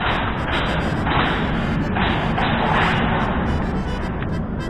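Gunfire in a shooting video game, loud and continuous with repeated rapid bursts of shots layered over a dense, noisy background for several seconds.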